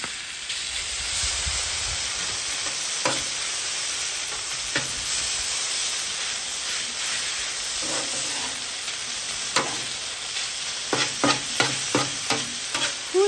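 Chicken noodle stir fry sizzles steadily in a hot pan, a continuous close hiss with occasional sharper crackles and utensil scrapes toward the end, no talking.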